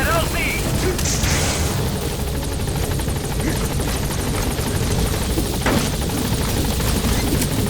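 A helicopter arriving at a landing zone in the video game Metal Gear Solid V, its rotor roaring loud and steady throughout with a dense, continuous throb.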